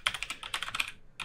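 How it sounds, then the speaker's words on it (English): Fingers type on a computer keyboard in quick, close, clicky bursts, a rapid run of keystrokes, a brief pause, then a few more taps, with no talk over them. "So I'm going to type in"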